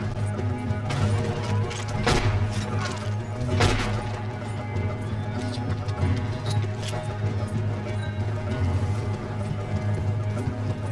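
Horse hooves clop in Red Dead Redemption 2, a steady rhythmic clatter running under a busy game soundscape with a few sharp louder impacts, moderately loud and continuous.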